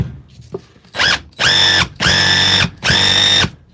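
A DeWalt power tool being tested after a repair whirs in three or four loud bursts of about half a second each, with brief pauses between them, heard close, with no talking.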